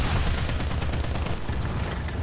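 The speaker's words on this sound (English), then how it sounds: "This machine gun has no clip size." A Japanese Chi-Nu II tank's machine gun rattles in rapid, unbroken bursts during a War Thunder battle, loud and close, with booming impacts mixed into the fire.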